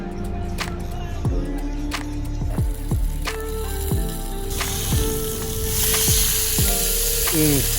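Food sizzles in a pan with sesame oil, honey, lime juice and scallions at a seaside campsite, a steady loud frying hiss with clinks and scrapes of stirring throughout, growing brighter toward the end.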